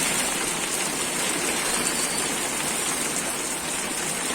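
Heavy rain pours down outside, a dense, steady hiss that stays loud and unbroken throughout, with no voices.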